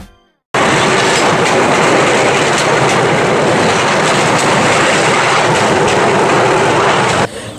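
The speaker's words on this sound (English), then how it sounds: "We are taking a bamboo train along these old tracks that used to run from Phnom Penh all the way to Battambang." A bamboo train rattles steadily along old railway tracks in Cambodia, a loud, close, continuous clatter of wheels and rushing wind that starts abruptly and holds throughout.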